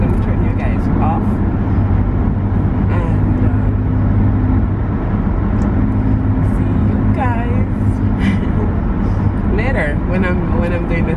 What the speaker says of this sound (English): I'm driving to work right now